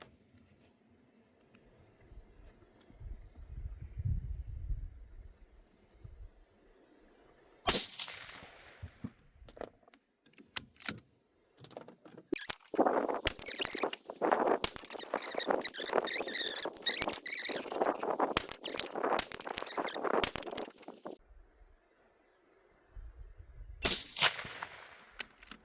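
Rifle shots fired during night testing with DNT thermal scopes, a sharp crack around eight seconds followed by a long dense burst of sharp impulsive bangs and rattles, loud and close, with another crack near the end.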